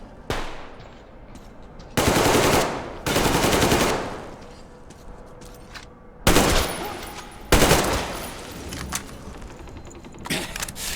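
Gunfire in a Metro Exodus shootout: several loud, close bursts of rapid automatic fire lasting a second or two each, separated by short quieter gaps.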